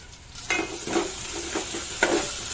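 Turmeric and fresh coriander frying in hot oil while a spoon stirs the pan, soft sizzle with several scraping strokes and a light clink, close by.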